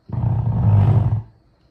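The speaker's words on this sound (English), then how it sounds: "My chair's loud." A chair is dragged across the floor, making a single loud, low, grinding scrape that lasts about a second before fading, close by and with no talking.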